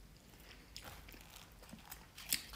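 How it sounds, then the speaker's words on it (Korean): Cream shrimp being eaten close to the microphone, with quiet crisp bites and chewing, a few soft crunches and a sharper snap near the end, no talking. "크림새우를 먹어보도록 하겠습니다."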